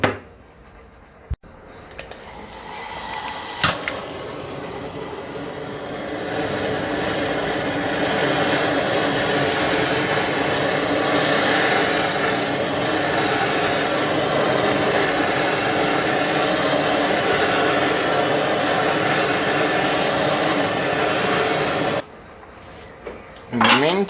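A torch roars steadily while heating metal to anneal it for jewelry work with a crazy lace agate and bezel, a loud continuous hiss that starts after a few seconds, swells, holds for about fifteen seconds and then cuts off.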